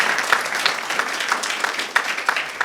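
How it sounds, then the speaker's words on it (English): Lecture audience applauding in a hall, a steady patter of many hands clapping at moderate volume with a few sharper claps standing out, sustained for the whole moment. "Let's give her an applause."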